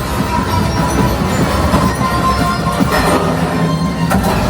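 A train in the Millennium Falcon: Smugglers Run ride game rumbles and clatters steadily along the track, a loud, continuous rolling din with occasional metallic squeals.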